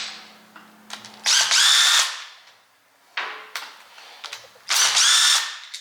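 Power drill backing out rear differential bolts on a Lexus IS300, close and loud: two long whirring bursts separated by shorter spins and quiet handling noise.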